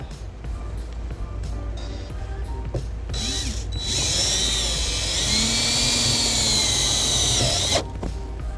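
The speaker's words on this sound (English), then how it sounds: "So go ahead and grab my drill." A power drill whirs steadily for several seconds, driving a screw into a 2012 Honda Odyssey for a trailer wiring ground, with a rising, straining whine before stopping, preceded by short clicks and handling noises.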